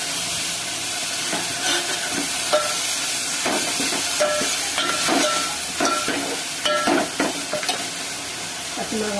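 Onions and tomatoes sauté in a pan for a curry, with a steady frying sizzle and intermittent stirring scrapes and clinks across the whole stretch, fairly close and with no talk.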